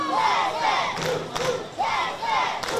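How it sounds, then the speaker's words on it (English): Crowd at a youth baseball World Series game, South Carolina versus Texas, chanting Texas in a rhythmic two-beat call repeated twice, loud and close with crowd noise around it. "And you can hear the crowd starting to chant,"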